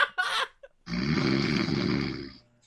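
A voice imitates loud snoring: one long, rough, rumbling inhale-like snore lasting about two seconds, preceded by a short breathy sound.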